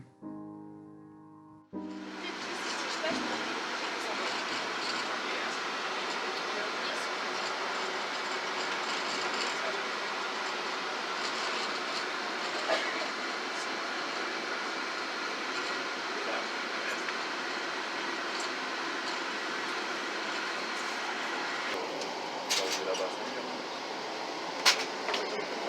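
A ride aboard the driverless AirTrain Newark monorail: steady, loud rolling rumble and hum of the car in motion, with faint rhythmic clicks and an occasional squeal, continuous throughout with no talking.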